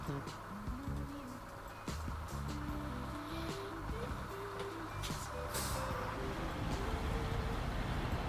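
A truck in the Snowrunner video game gives repeated reversing beeps over a rumbling engine and air-brake hiss, while a person talks over the game sound.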